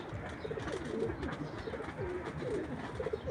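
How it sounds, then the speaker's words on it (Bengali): Pet pigeons perched in a tree coo repeatedly in soft, rhythmic throaty calls, several birds overlapping at close range against a quiet outdoor background. "আমার কবুতর সব এখন একটু বজ্জাত হয়ে গেছে এই যে এই গাছে বসে"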